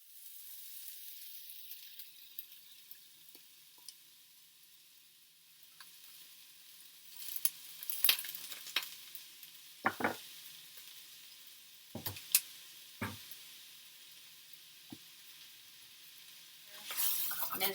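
Half a diced onion frying in hot oil, a faint low sizzle broken by scattered sharp spatula scrapes and clicks, growing a bit louder toward the end, with no speech.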